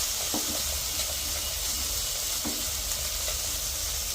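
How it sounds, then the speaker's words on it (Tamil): Dried anchovies and shallots sauté in hot oil with a loud, continuous sizzle and hiss, broken by a few sharp stirring scrapes, close by and without speech. "சின்ன வெங்காயத்தோடு சேர்ந்து நெத்தலி கருவாடு வதங்கிட்டு நல்ல ஒரு வாசனையாக இருக்குது."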